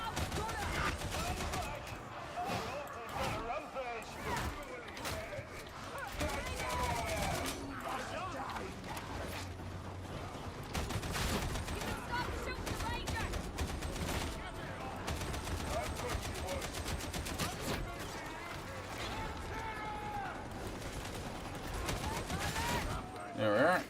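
Enemy gunners in Warhammer 40k Darktide unleash rapid, sustained automatic fire in dense bursts, loud and nearly continuous, with a voice talking over the gunfire.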